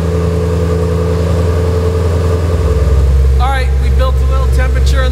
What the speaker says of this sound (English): I hear that rawr, that slight rasp that the Voodoo has